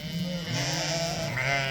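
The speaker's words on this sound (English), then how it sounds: "And these are Romanoff sheep." Romanov sheep, a small, prolific breed kept on a farm, bleat in a steady, fairly close wavering cry that carries through the whole moment, with no talking.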